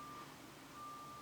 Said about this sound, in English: My apologies if you can hear a truck backing up right now.